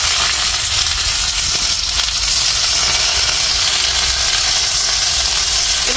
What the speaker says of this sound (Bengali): এবার কি পেঁয়াজটাকে ভালো করে ভাজতে হবে